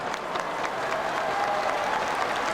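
Steady applause from a large arena crowd at the 1997 World Handball Championship final, Sweden versus Russia in Kumamoto, rewarding a Russian goalkeeper's save; dense continuous clapping fills the space with a murmur of crowd noise.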